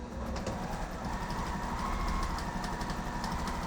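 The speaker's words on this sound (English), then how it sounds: "So we just sewed along the edge and then along that other line." A sewing machine runs steadily as it stitches along a fabric edge for a mason jar sewing caddy, its motor hum continuous and fairly loud with no pauses.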